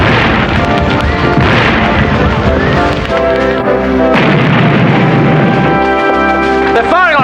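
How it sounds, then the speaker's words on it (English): Cannon fire from Dorchester Heights in a Revolutionary War film scene, with heavy booms and crashes under a loud, dense orchestral score that stays busy throughout. "They're firing on us from Dorchester Heights."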